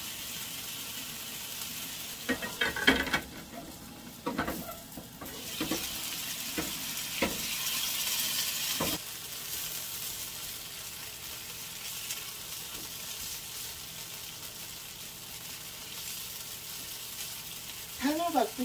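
Kabocha squash pancakes fry in an oiled pan with a steady crackling sizzle, broken by a few louder pops and scraping stirs early on before settling into an even hiss.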